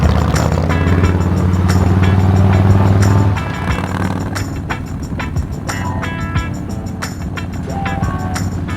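Harley-Davidson motorcycle engine on the road, a deep steady rumble that drops in pitch after a few seconds, followed by a series of sharp exhaust backfire pops and crackles.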